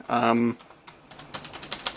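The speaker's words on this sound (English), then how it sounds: "The keyboard, the keys have nice travel, but it just doesn't feel that good." Keys clacking on the keyboard of a Compaq Armada 7330T laptop, a run of quick, fairly soft taps with an irregular rhythm, coming just after a brief burst of voice at the start.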